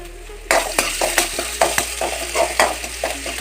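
Chilli, garlic and ginger fry for mango pickle in a pan on low flame, a close sizzle broken by repeated scraping stirs of a spoon.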